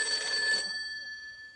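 A telephone bell rings in a stage comedy sketch, one sustained ringing burst that cuts off abruptly and leaves a faint steady electronic tone behind.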